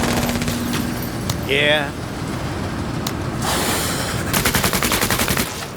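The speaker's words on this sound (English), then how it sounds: "Here's another use for that 20 AP mounted chain gun" Bursts of rapid fire from a 20 AP mounted chain gun in the game MENACE rattle out in quick repeated volleys, loud and close, with a brief voice speaking in between.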